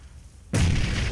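A grenade explosion in the video game PUBG, one sudden loud, deep boom breaking a quiet stretch and ringing on without a break to the end.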